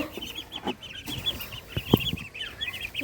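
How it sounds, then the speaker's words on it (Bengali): Tiny ducklings kept under a cover chirp in quick, high, overlapping peeps, with a few soft low thumps and rustles close by. "ছোট্ট ছোট্ট হাঁস বাচ্চাগুলো খুব কিউট তাই না"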